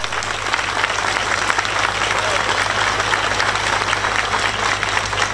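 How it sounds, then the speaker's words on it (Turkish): A political rally crowd claps loudly and continuously for the whole stretch, a dense, close wash of many hands with a low steady hum beneath it. "Ben de sizin gibi bu genç kardeşimizi yürekten alkışlıyorum."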